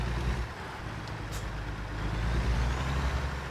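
Heavy truck in American Truck Simulator turning around, with a deep steady diesel rumble and a brief hiss of air release partway through, no talk.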